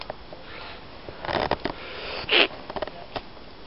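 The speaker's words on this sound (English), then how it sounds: "Sorry about the sniffing and that, but I'm absolutely full of it" Repeated wet nasal sniffs from someone with a runny nose while camping in a forest, several close, sharp inhalations spaced irregularly with quiet pauses between them.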